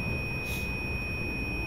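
An Intercity train's warning signal in Train Simulator 2016 sounds as doors close for departure: a steady, high electronic tone held continuously over a low background rumble, with no talking.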